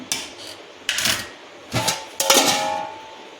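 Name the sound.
covering the cooking pot of dal with a lid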